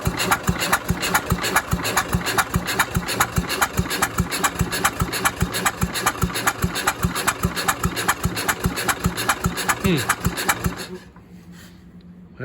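A Jacobsen Chief 800 garden tractor engine, long left sitting outside, fires up and runs with a loud, rapid, rhythmic chugging idle close by for about ten seconds, then cuts out abruptly into quiet.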